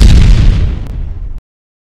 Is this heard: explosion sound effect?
yes